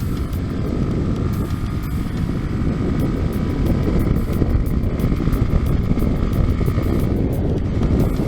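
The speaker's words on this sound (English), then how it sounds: "the exhaust sound on this and the induction noise" A Honda CB 150 Streetfire or Yamaha R15 V2 motorcycle with air filter covers removed and stock exhaust, giving a loud, rough, steady engine drone with intake roar, close to the microphone, no speech.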